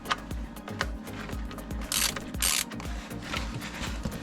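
A ratchet wrench clicks rapidly while loosening the 14 mm oil drain plug under a 2012 Toyota Corolla, a close, rhythmic run of pawl clicks broken by brief scraping rustles.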